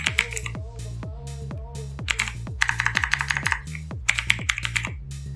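Quick bursts of clicky keystrokes on a computer keyboard, uneven in rhythm with short pauses between runs and a louder thumped key now and then, sitting close to the listener while someone talks over them.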